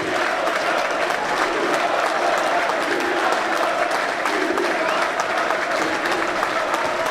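Scarborough football supporters clap their players up the stairs after the NPL play-off final, an even, continuous wall of applause at steady volume with crowd murmur underneath.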